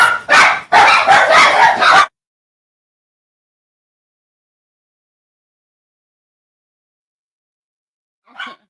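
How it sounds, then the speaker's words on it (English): Dogs bark in a quick loud burst of several close barks and yips, then fall silent before a faint short sound near the end. "You done got the dogs all upset."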